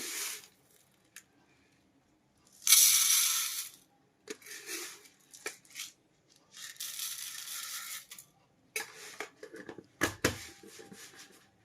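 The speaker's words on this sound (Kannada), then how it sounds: "ನಾನು ಸಾರು ಮಾಡಲಿಕ್ಕೆ ಬೇಳೆ ಹಾಕಾಕತ್ತೀನಿ." Dry toor dal lentils poured into a cooking vessel for saaru, a few separate bursts of hard grainy patter and rattle, close and fairly loud, with quiet gaps between pours.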